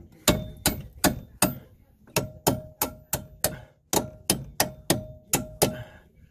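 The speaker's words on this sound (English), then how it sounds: "or you can just take a hammer" A hammer taps strut bolts into place during a front strut replacement on a car, sounding as a steady series of sharp metallic blows in rhythmic clusters, close and loud with no talking.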